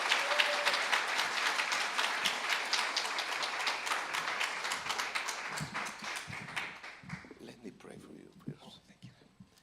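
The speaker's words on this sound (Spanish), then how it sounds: "¿Qué tal si lo recibimos con un cariñoso y fuerte aplauso?" Warm applause in a church service greeting a translator, dense clapping that starts strong and gradually thins out toward the end, with faint voices surfacing as it fades.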